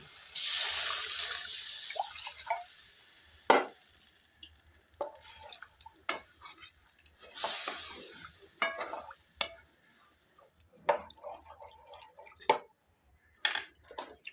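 Water poured into a hot cooking pan of tempered spices for a sour fish dish, a loud rushing hiss and sizzle in two bursts, followed by intermittent clinks and stirring sounds.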